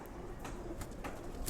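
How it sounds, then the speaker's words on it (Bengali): Soft, low cooing comes from a female silver pigeon kept in a home loft. A few faint, close-up coos are heard over quiet background noise. "এই যে আমি আরেকটি মাদি কবুতর দেখাই আপনাদের"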